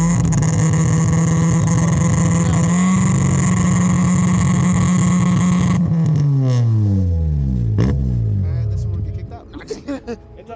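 A Honda engine holds a loud, steady high-rev drone on launch control, then the revs fall away in sweeping drops before cutting out, close and alone.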